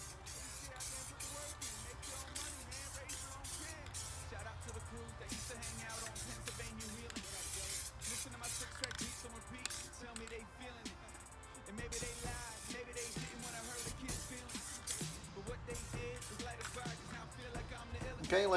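Dye sprayed as a second coat onto a Foxbody console cup holder, heard as rapid bursts of close, sharp aerosol hiss in quick succession, with faint talk underneath.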